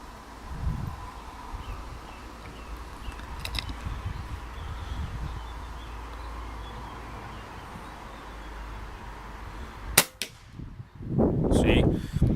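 An air rifle fires at a target outdoors, a single sharp crack near the end standing out over a background of wind and rustling, followed by some nearby handling noise.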